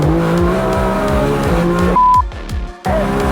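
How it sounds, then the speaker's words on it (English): A 7-second Nissan R35 street drag car at a roll racing event in Sydney, heard from inside the cabin: a loud, close engine roars up through the revs, with a brief shift dip and a blip before pulling hard again. "This is what it's like to be inside a 7-second R35."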